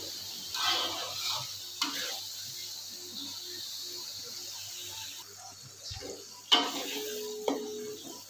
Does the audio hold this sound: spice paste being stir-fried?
yes